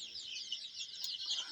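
Local chickens on a poultry farm give soft, rapid clucks and chirpy calls that overlap continuously, moderately close and fairly quiet, with no talking.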